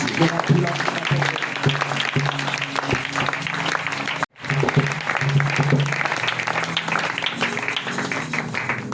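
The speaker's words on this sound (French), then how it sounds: "Est-ce que tu peux acclamer très fort pour Jésus?" A church congregation applauds and cheers loudly for Jesus during a prophetic revival service, with steady dense clapping and raised voices and a tonal musical backing. The clapping breaks off for a moment midway, then swells right back.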